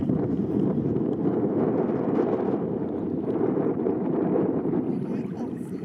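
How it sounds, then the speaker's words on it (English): Strong wind gusting while kayaking near a seal colony in Forillon National Park, Canada: a loud, continuous roaring rush buffeting the microphone, with no talk. "Big wind suddenly."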